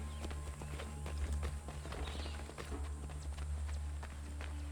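Horse hooves clip-clop at a steady walking pace in a video game set on the American frontier, with irregular thuds over a constant low hum and soft game ambience.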